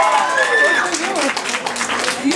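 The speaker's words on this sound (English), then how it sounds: "So let's give a round of applause for our youth." A crowd at a youth culmination program at a cafe applauds and cheers, a dense wash of clapping mixed with voices and whoops, steady and loud throughout.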